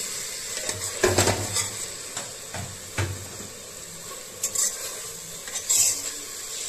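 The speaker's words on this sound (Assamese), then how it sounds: "পিয়াজ আদা আৰু নহৰু মিলাই পেলাই এতিয়া আপোনালোকে অলপ ভাজি থাকক" Onion, ginger and garlic masala being stir-fried for Assamese fish pulao, with a soft steady sizzle under several sharp scrapes and clinks of a spatula against the pan, spaced irregularly a second or so apart.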